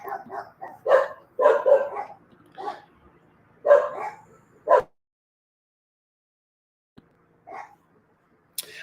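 Several dogs barking outdoors in bursts of sharp, repeated barks, fairly close, then falling quiet with a couple of isolated yips afterward.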